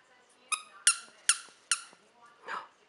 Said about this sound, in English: Am I making it squeak?